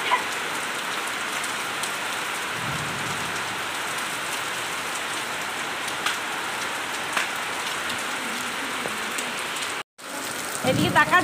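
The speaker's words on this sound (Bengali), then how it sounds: "বাবা এতদিন বাদে বৃষ্টি হচ্ছে," Steady rain pours onto surfaces in a dense, continuous hiss close by for about ten seconds, followed by a brief dropout and then louder, rougher patter.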